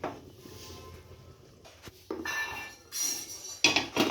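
A metal lid clanks onto a pot of chicken and potato curry on a gas stove, with a few bright clinks and knocks of cookware in a quiet kitchen.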